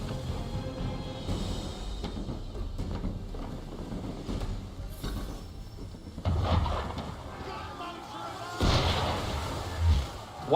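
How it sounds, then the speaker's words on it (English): Cannon and gunfire boom at the player's boat in Assassin's Creed 3, with heavy blasts landing intermittently and splashing impacts while characters talk over the action. "Why is he shooting at us?"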